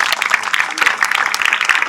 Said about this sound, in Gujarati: જોરદાર આ સંસ્થા માટે તાળીઓ વગાડજો